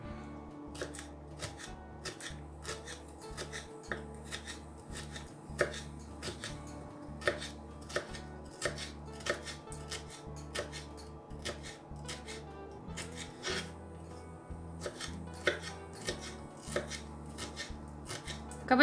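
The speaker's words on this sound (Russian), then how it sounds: "Сладкий перец нарезаю соломкой." Quick, steady knife chops on a board as a sweet bell pepper is cut into thin strips, a soft close rhythm of many light taps.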